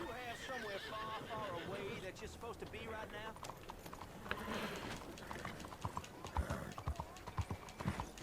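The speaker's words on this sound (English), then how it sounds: "Infamous horse clip." A horse in the video game Wylde Flowers whinnies in rising, wavering calls, followed by a run of sharp hoof clip-clops. People talk and react over it throughout.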